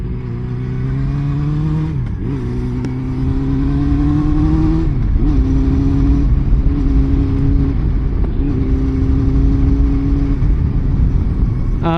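A Honda CB400 Super Four motorcycle's four-cylinder engine revving up and settling back several times, loud and close, with a smooth rising howl between idle stretches.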